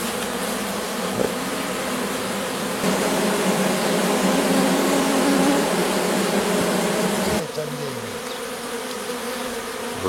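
A swarm of honey bees buzzing densely around a hive being collected in a village, a continuous loud hum close to the listener, with a brief spoken word and some handling noise near the end.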